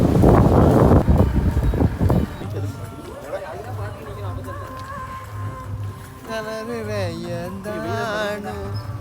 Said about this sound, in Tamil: காற்று செம்மையாக வீசிட்டு இருக்கு.